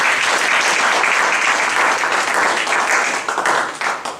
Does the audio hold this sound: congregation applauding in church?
yes